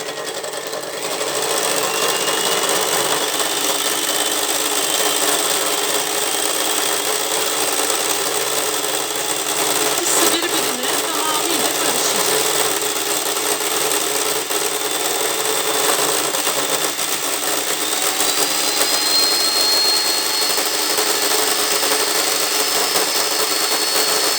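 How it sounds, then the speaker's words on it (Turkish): Honey and egg white whisked together with an electric mixer: a continuous, loud, steady motor buzz running unbroken throughout, with no talking. "Bal ve yumurta akı iyice birbirine karışana kadar bunları güzelce çırpacağız."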